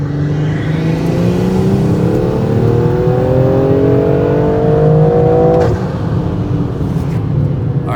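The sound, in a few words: big turbo BMW M340i on E85 accelerating hard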